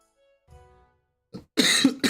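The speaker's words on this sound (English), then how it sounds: "Sorry about the coughing." Several harsh coughs from one person at a game-development desk, close to the mic, with a short throat noise first, then two loud bursts near the end.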